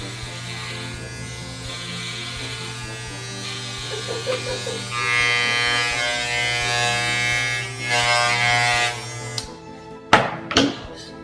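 An electric hair clipper used for a home haircut buzzes steadily up close for several seconds, then cuts off, followed by a few sharp knocks and clatters.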